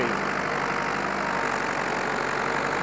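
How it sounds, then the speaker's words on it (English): A classic four-wheel-drive tractor engine runs with a steady, loud, continuous drone while pulling a long trailer, with no talking. "making this tractor work"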